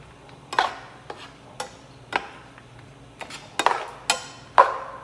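Lime juice and chalupa ingredients are mixed in a bowl, making a series of spaced clinks and scraping knocks from a utensil against the dish, about eight sharp taps over a quiet background, with no voices.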